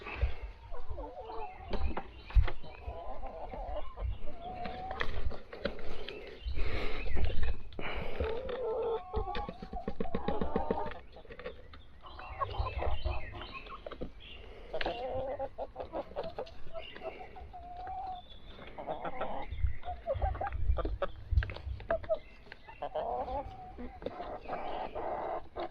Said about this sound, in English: let's go show the chickens their little snack